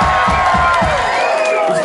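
A concert crowd at an indie rock show cheers and whoops loudly, a close, dense roar with sustained ringing instrument tones running through it.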